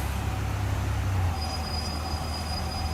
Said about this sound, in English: You can even hear the brakes, the squeak of the brakes there.